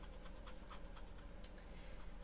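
A dog pants indoors, a quick, faint, rhythmic run of breaths close by, with one brief scratch or click partway through and no speech.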